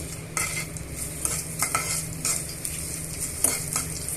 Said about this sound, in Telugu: పోపు దినుసులు వెల్లిమిరపకాయలు వెల్లుల్లిపాయలు అన్నీ కూడా బాగా వేయించేసుకోవాలి